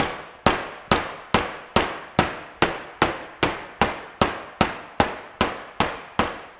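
Snap-on flathead screwdriver tip striking paint protection film on a car panel, about a dozen sharp, evenly spaced clacks in a fast regular rhythm, close and loud with no talking.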